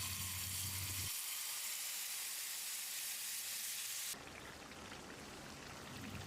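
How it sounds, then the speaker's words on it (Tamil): Ground onion paste hits hot oil in a pan for onion thokku, setting off a loud, dense crackling sizzle that settles into a softer, steady frying hiss. "இப்போ ஸ்டவ்வில் தீயை குறைச்சி வச்சுட்டு நம்ம அரைச்சி வச்சுருந்த பேஸ்ட்டை ஊற்றிடலாம்"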